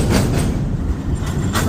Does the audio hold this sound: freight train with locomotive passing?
yes